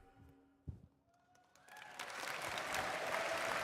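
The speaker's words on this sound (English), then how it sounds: "Bigger cheer than Genshin Impact." At a Gamescom presentation, quiet tones give way to a crowd breaking into applause and cheering, swelling from a scattered start into a sustained, dense roar of clapping.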